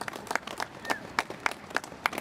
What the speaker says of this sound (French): Applaudissez la docteure Shiva.